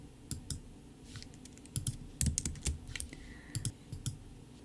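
Computer keyboard with a handful of crisp close key presses in an irregular rhythm during a design software session, including a Command+D duplicate shortcut, with no talking.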